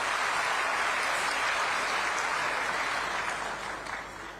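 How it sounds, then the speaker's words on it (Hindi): A large crowd at a farmers' rally in Raipur gives loud, sustained applause to welcome a guest, a dense wash of clapping that fades slightly toward the end. "आज के बेला में आप मन से मैं चाहूं कि जोरदार ताली के गड़गड़ाहट से स्वागत करो।"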